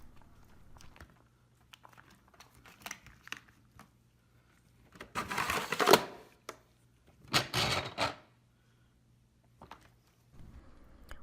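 Two loud, rustling shaking bursts from a GTX printer's W34 white ink cartridge being agitated by hand, its pouch rolled inside, with quieter clicks and handling noises around them and no talk.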